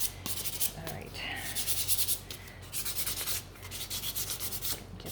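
Sandpaper rubbing on painted wooden pumpkin pieces being distressed for a fall scarecrow craft, steady back-and-forth scrubbing strokes close up, in bursts with short pauses.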